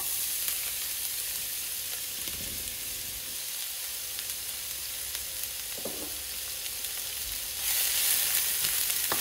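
Chopped onions sizzle steadily in hot vegetable oil in a pan, a continuous broadband fry with a couple of soft stirring knocks, growing louder and hissier near the end.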